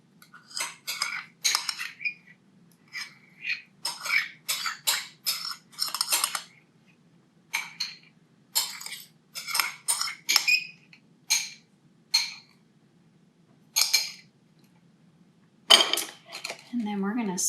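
A spoon clinks and taps against a pot while pectin mixture is added to strawberry freezer jam, a series of sharp, close metallic strikes in irregular bursts separated by short quiet gaps, with no voices.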